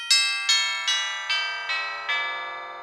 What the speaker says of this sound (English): Different tubular bells.